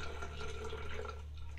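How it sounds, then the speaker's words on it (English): Water draining loudly from a manually filled off-grid shed bathroom fixture, a steady rushing, gurgling flow with dripping texture, close and continuous throughout with no talk. "it drains very effectively and loudly"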